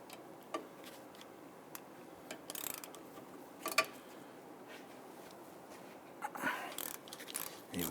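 Ratchet with a long extension turning out number 12 inverted Torx bolts on the rear wheel bearing and hub assembly of a 2011-2023 Dodge Charger, giving faint, sparse clicking ticks spread over a quiet background.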